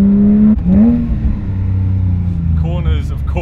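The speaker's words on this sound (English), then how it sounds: "This car just wants to be driven as hard as possible and loves it when you take the revs up" A Porsche 997.2 GT3 engine revs high and then drops to a deep steady rumble, with a voice talking over it.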